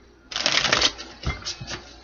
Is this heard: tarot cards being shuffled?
yes